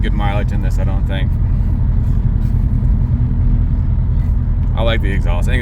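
Subaru Forester XT turbo engine and aftermarket exhaust while driving, a steady low rumble throughout with someone talking over it at the start and end.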